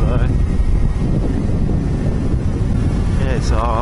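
Steady wind buffets the microphone in a low, continuous roar for the whole stretch, riding a Kawasaki Ninja 250 motorcycle near Mundaring Weir, Perth, with a voice briefly heard near the end.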